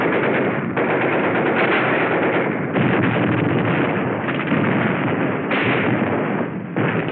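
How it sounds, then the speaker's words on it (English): Mortar barrage and machine gun fire in a 1945 World War II film about Iwo Jima, heard as a dense, continuous, band-limited roar of rapid gunfire and thuds, loud and unbroken throughout. "A mortar barrage searches out hidden machine gun nests."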